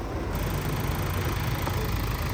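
A 2018 Mazda Atenza station wagon's 2.2-liter SkyActiv diesel engine idles with a steady, close, even rumble throughout, and no voices are heard.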